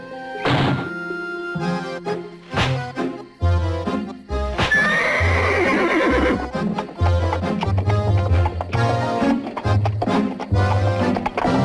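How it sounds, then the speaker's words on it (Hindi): Horses neigh loudly with shrill whinnies amid heavy thudding hooves and clattering, a dramatic animated chase scene with a driver urging the animals faster. "बेवकूफ घोड़ा, और तेज, और तेज।"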